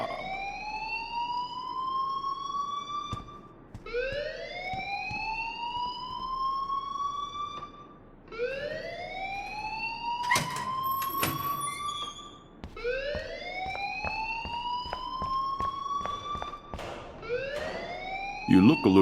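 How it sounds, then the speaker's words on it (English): A rising, repeating electronic school alarm whoops in a loop in the video game Life is Strange, loud and steady with short gaps, while people talk over it. "please turn off that alarm since that's your job."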